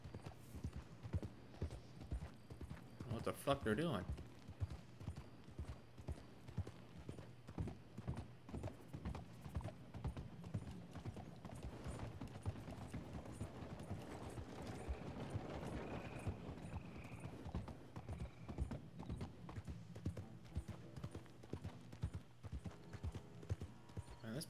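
Horses' hooves clip-clop steadily in Red Dead Redemption 2, a continuous close trotting rhythm over a low ambient rumble, with a brief neigh and someone talking over it now and then.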